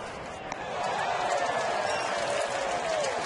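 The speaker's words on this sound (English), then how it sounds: "By the crowd reaction, someone must have caught it." A ballpark crowd at an Oakland–Texas baseball game stirs and cheers after a fan catches a foul pop-up in the stands, a broad distant roar swelling and holding beneath a broadcast booth ambience.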